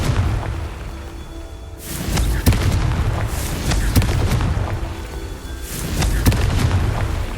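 Confringo spell explosions in the video game Hogwarts Legacy: loud, booming blasts with sharp cracking hits repeating across a constant rumbling roar of combat.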